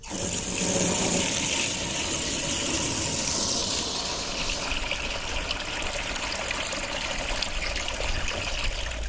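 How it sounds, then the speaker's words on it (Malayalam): Water pumped by a submersible pump from a fish tank pours into an aquaponics flood-and-drain grow bed, making a continuous rushing, splashing flow that stays loud and even throughout, with no voices. "ഇതിലേക്ക് ഫിഷ് ടാങ്കിൽ നിന്നും വെള്ളം ഒരു സബ്മേഴ്സൽ പമ്പ് വെച്ച് ഇതിലേക്ക് പമ്പ് ചെയ്യുന്നു"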